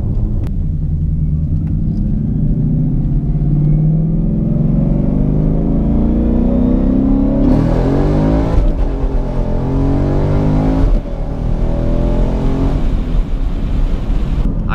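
A Ford 5.0 car accelerates hard on the road, its engine rising in a loud, close, building rumble, then dropping briefly at each gear change before pulling again.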